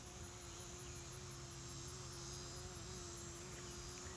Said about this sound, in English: And those bumblebees have decided to move over here with me.